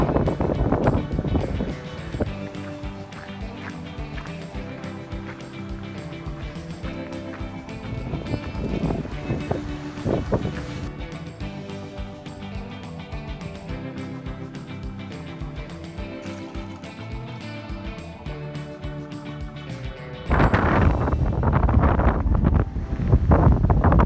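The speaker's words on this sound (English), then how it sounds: "it's probably 30 to 40 mile an hour winds" Strong wind of around 30 to 40 mph at Silverwood Lake, buffeting the microphone as a loud continuous roar and rumble with gusts throughout, swelling harder near the end.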